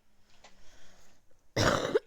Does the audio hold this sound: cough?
yes